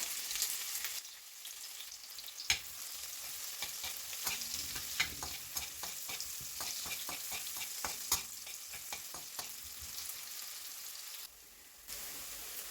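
Onions fry in oil in a pan at moderate level, a soft sizzle broken by frequent scraping and clacking stirring strokes, with no talk.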